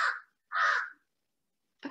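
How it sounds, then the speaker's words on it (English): A crow caws outdoors, loud and fairly near: two harsh calls about half a second apart, then the start of a third after a pause. "Is the crow very loud on your side? I can definitely hear the crow."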